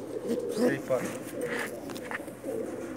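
Pigeons of a single breed coo softly at close range in a loft, low murmuring calls overlapping under a voice talking throughout.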